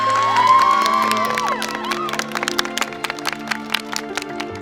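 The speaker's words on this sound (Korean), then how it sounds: "가락고등학교 우승 박수 한번 주세요." A school crowd celebrates a high school's win, with cheers and shouts at first, then scattered clapping building into quick bursts, all heard over sustained background music tones.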